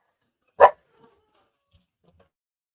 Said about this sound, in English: If you hear dogs, I'm just dog sitting, so don't worry about that.